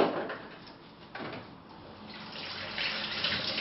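Peeled carrots rinsed under a running kitchen tap, water splashing steadily with a brief clunk near the middle, the flow growing louder toward the end.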